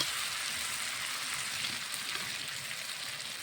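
Batter sizzles steadily in hot oil in a pan, a dense, even, hissing crackle that carries on unbroken and close, with no talking over it.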